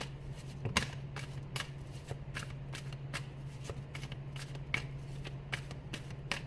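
Tarot cards shuffled by hand in a series of quick riffling bursts, close and clear, over a steady low hum with no talking.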